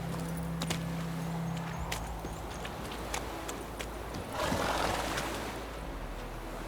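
Roach, the horse in The Witcher 3, runs with a soft, steady clatter of hooves beneath a continuous game ambience, rising briefly in a rustling surge midway.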